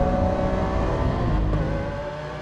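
A Lamborghini Aventador S engine roars and revs loudly and steadily, a dense growl that eases slightly toward the end.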